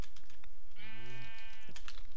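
A single sheep bleats in the Minecraft video game, a clear wavering cry lasting about a second over steady game background noise and keyboard clicks.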